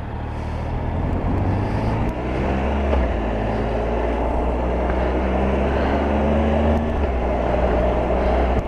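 Triumph Tiger Explorer motorcycle riding on damp roads on a cold morning: a steady, loud engine drone with shifting tonal harmonics as revs rise and fall, mixed with continuous wind and road rumble, no talking.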